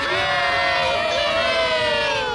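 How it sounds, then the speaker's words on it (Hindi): A stadium crowd gathers and cheers, a dense, loud, continuous wash of shouting and whooping voices with rising and falling tones, steady throughout. "हमारे आसपास भीड़ जमा होने लगी"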